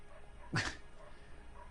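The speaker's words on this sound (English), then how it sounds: "sorry if you can hear my dog barking outside" A single dog bark sounds somewhere outside, one short, muffled yap standing out against a quiet background hum.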